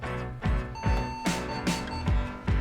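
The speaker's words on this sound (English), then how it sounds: "3 beeps, 1 long, 3 short." A Windows 98-era PC motherboard gives POST beep codes: loud, close short electronic beeps in a quick pattern, one long tone at the start then three short, repeating, like a startup error code.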